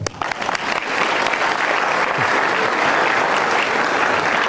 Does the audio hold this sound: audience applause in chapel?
yes